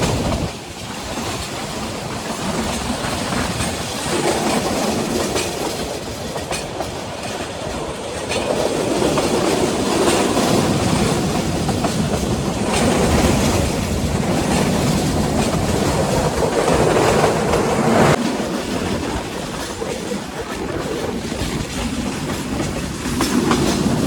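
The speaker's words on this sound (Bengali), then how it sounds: "এই মুহূর্তে আমাদের পারাবত এক্সপ্রেস লাউয়াছড়া জাতীয় উদ্যানের ভিতরে প্রবেশ করছে।" The Parabat Express rolls through Lawachara National Park in Bangladesh, heard from on board as a loud, continuous rumble of wheels on track with rhythmic clickety-clack and swelling, rattling carriage noise.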